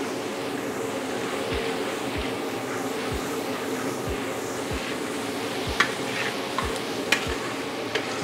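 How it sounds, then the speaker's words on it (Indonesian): Onion and scallion stir-frying in a pan, a steady sizzle with rhythmic stirring strokes roughly every half second, close and moderately loud, with a few sharper clinks of the utensil toward the end and no talk. "Tumis-tumis lagi."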